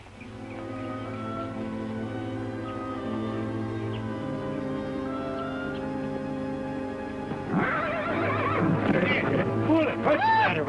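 A horse is heard nearby in an outdoor Western scene, with a whinny-like cry under a sustained musical score. Sudden louder commotion breaks in toward the end.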